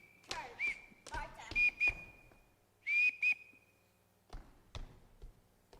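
A shrill whistle blown as signals to call children sounds in short repeated blasts and pairs of notes, with quiet footsteps and thuds between them in a theatre stage setting.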